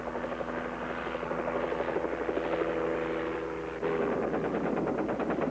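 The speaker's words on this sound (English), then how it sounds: "their experimental Sioux Scout helicopter" The experimental Bell Sioux Scout helicopter in flight, a steady rotor thrum and engine whine holding throughout, with a rhythmic chopping beat growing sharper near the end.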